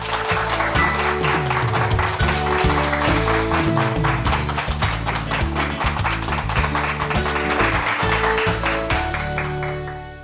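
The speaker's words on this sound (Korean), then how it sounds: "이윤옥 소장님을 큰 박수로 맞이해 주시기 바랍니다" A hall audience applauds a poet and cultural research director as she is welcomed to a lecture on women independence activists. Sustained rhythmic clapping runs steadily over a music bed for about ten seconds, then fades at the end.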